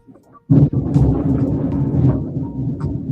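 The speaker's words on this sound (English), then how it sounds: "And there's the thunder, y'all." Thunder rumbles in after a short quiet start, a loud sustained low roll that swells and lingers for the rest of the moment, heard alone without talk.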